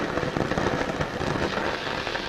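Dense, continuous crackling and sizzling, loud and close, as overheated metal spits steadily under a brazing torch.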